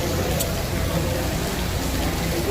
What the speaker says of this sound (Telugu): అందుకే వాన పడుతుంది